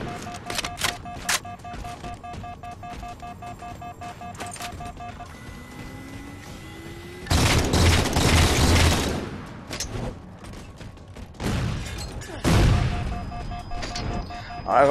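Grenade explosions and bursts of gunfire in a Halo 4 one-on-one match on the Sanctuary map, with sharp repeated shots early on and two loud, sustained blasts near the middle and end over steady game ambience.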